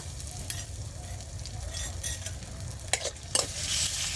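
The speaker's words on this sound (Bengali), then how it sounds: "একটু ভেজে নেব আদা হয়ে গিয়েছে" Five-spice seeds and grated ginger frying in oil, a steady close sizzle with spatula stirring and a few sharp scraping knocks near the end.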